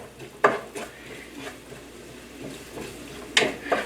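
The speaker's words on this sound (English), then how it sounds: "we're gonna cook some shallot, onion, red curry paste, and 1 hot chili, low heat" Shallot, onion, red curry paste and a hot chili fry over low heat in a pan, giving a soft, steady sizzle broken by a few sharp clinks of a utensil against the pan.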